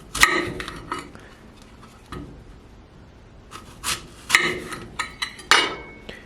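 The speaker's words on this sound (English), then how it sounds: "This is how I like to cut an apple." A knife slicing through an apple on both sides of the core and then crosswise, giving a few short scraping, crunching cuts with quiet gaps between them, close up.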